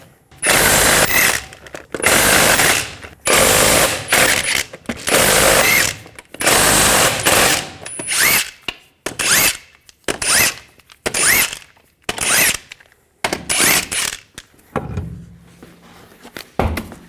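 An impact tool spins off the 21mm lug nuts from a front wheel of a 2004-2008 Ford F-150. Loud, close bursts of whirring and rattling come one after another, separated by short pauses, with quieter clinks near the end.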